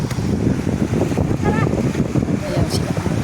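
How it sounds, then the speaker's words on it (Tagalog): Strong, cold wind buffets the microphone outdoors at a busy, crowded spot, making a loud, continuous rumble while people talk over it. "Ay, lakas ng hangin mga guys."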